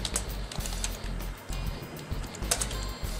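An email address is typed on the on-screen keyboard of a Swipe MTV Slate 8-inch calling tablet: quick, close clicking taps in an uneven rhythm, with no voice.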